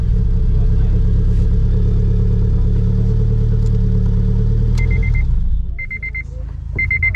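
A Honda Civic Si engine runs with a loud, steady rumble for about five seconds, then drops away, leaving quieter background and a few short electronic beeps.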